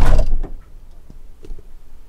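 Sliding door on a Malibu Charming LE 640 camper van rolling shut, a short loud rumbling slide followed by a soft thud and a few quiet clicks as it latches, with no voices.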